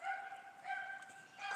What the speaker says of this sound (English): you need to do something with that fucking dog.